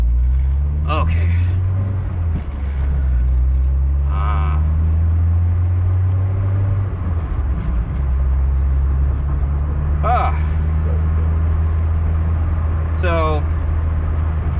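An 80s Nugget's engine drones steadily while driving, with a brief dip around a gear change; someone talks intermittently over the constant low rumble.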